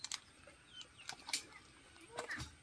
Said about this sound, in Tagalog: Dito sa likod, dito yung mga manok natin.